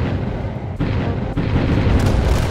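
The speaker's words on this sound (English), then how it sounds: "huge battleship explosions bigger than anything you've seen in this game" Deep, rumbling blast from a battleship explosion in War Thunder, a loud continuous roar with a couple of sharp dips, heard alone without voices.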